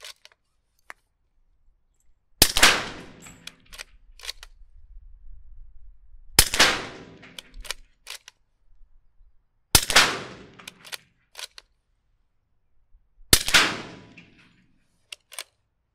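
An SDS carbine chambered in 300 Blackout fires four sharp, loud shots at an indoor range, spaced about three to four seconds apart, each followed by a brief echoing decay, with small clicks and handling noises between them.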